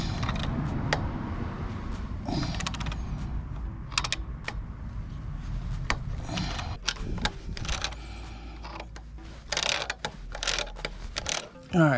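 A wrench works at a Harley-Davidson M8 cam bearing, giving irregular ratcheting clicks, metallic taps and creaks at close range with brief pauses between strokes.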